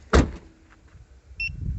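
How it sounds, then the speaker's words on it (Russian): A car trunk slams shut with one loud, dull thud, and a short electronic alarm chirp from the StarLine A63 ECO system follows about a second later against quiet outdoor background. "Закрываем багажник."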